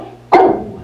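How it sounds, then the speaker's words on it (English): A single sharp, close dog bark cuts in suddenly and rings out briefly, with no one talking. "He barks every time someone comes to the door"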